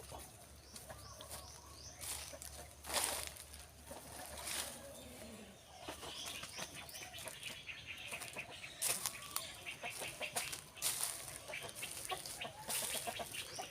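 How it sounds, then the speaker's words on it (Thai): Chickens cluck in a rural backyard coop in Thailand, with scattered clucks, occasional louder squawks and bursts of wing flapping over quiet outdoor background. "อันนี้เล้าไก่ ไก่ทั้งหมดมีอยู่หกเล้า"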